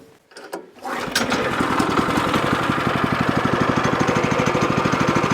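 A small engine with the choke on catches after a brief pull, then settles into a loud, close, rapid chugging run with an even pulsing beat, heard on a log-milling outing beside a tractor.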